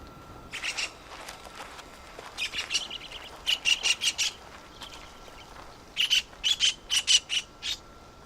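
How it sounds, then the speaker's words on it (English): A white-breasted kingfisher at a bird-netting station in the Jordan Rift Valley gives harsh, rapid squawks in bursts of several calls, fairly close, over quiet background hiss. "Oh, it's the white-breasted kingfisher."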